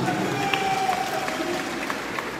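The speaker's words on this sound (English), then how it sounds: "I think he deserves some clap from you." Audience clapping at a party regional delegates conference, a steady dense wash of many hands in a large gathering, with faint voices underneath.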